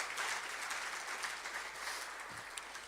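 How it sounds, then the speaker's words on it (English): Guests at a rugby referees' annual awards dinner give a round of applause. The clapping is soft and distant but continuous across the short stretch, with no speech over it. "Please give him a round of applause."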